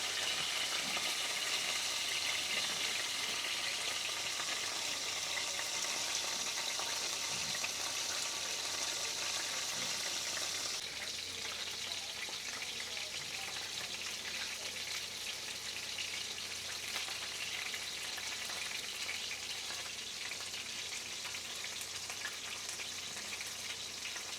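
Steady broadband sizzling of chicken frying in a pan in a home kitchen, continuous and fairly close, easing slightly in intensity partway through, with no voices.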